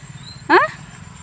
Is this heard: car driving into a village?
no